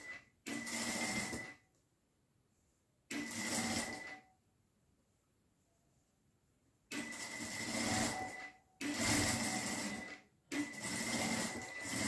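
Sewing machine stitching fabric for a jute and chintz beach pouch, running in five loud, close bursts of steady whirring separated by short pauses, with no talking.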